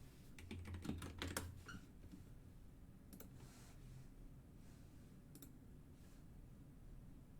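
Fast, forceful typing on a computer keyboard: a dense burst of clicking keystrokes at the start, then a few scattered isolated taps over a faint steady room hum, with no voices.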